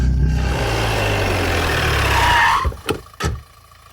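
A vehicle engine on a road revs loudly and steadily at close range, then cuts off and leaves a few sharp thuds and knocks in near silence.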